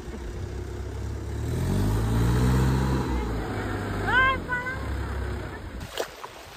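A tractor engine on a farm after heavy rain gives a low rumble that swells and fades over a few seconds, with brief voices partway through.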